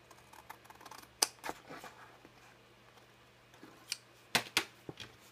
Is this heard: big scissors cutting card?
yes